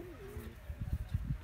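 Pigeons of a pure-breed flying club cooing softly, low repeated throaty pulses close by on a rooftop, quiet and alone.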